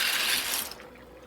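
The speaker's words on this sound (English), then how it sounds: "So now we're gonna add in 1 pound of elbow macaroni." A pound of elbow macaroni tumbles into a large pot of boiling salted water, giving a brief rushing, rattling splash that fades after about half a second.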